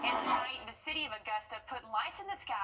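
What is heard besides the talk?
No everyday noise stands out behind the speech.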